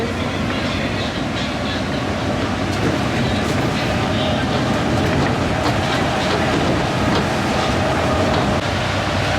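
Steady rumble of a Paris Metro Line 6 train in motion, with continuous low-frequency roar and faint rhythmic clatter, voices murmuring faintly beneath the noise.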